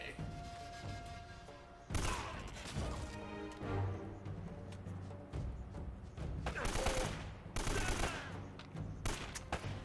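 In the video game Uncharted, AK rifle fire rattles out in rapid bursts amid thuds and crashes. The gunfire is dense and loud, with faint talk underneath.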